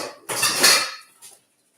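A worn, raggedy salad bowl handled with a clattering knock of dishware, one loud close burst followed by a smaller clink before falling quiet.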